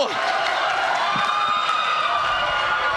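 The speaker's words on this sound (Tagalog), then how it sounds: "You can hear the crowd roaring coming in from that play." A crowd roars and cheers at a Mobile Legends esports match between TLPH and APBR, a dense, steady wall of noise with an energetic commentator talking over it throughout.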